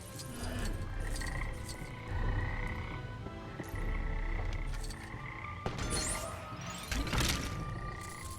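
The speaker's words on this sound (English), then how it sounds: "Dude, listen to these frogs. They're going crazy." Frogs croak in a dense, continuous chorus in the LEGO Jurassic World video game, with scattered clinks and knocks mixed in.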